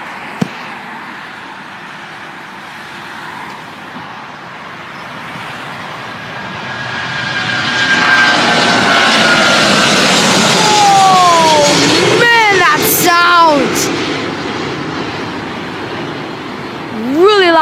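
An airliner powered by Trent 800 engines takes off, its roar swelling from a distance into a loud, broad rush with a falling whine as it passes, then easing off. Brief voices are heard near the end.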